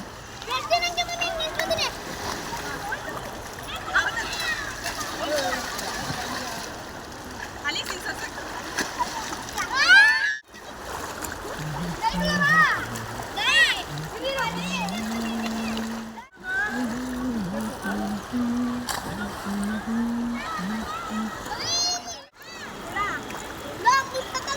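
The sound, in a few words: splashing in a river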